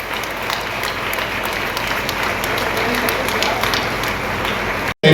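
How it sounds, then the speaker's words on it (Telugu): Steady applause from a seated audience fills the room throughout, a dense, even wash of many hands clapping, ending with a brief cut and a louder burst. "అంటే మీరు క్లాప్స్ కొడుతూ ఉండాలి."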